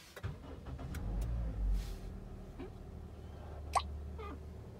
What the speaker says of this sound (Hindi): ब्रेक पे आप लोगों ने प्रेस करना है और पुश स्टार्ट वाली बटन को आप लोगों ने दबा देना है